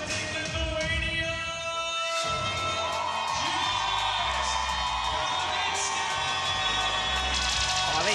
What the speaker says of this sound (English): The local crowd getting right behind Jonas Kalaminskas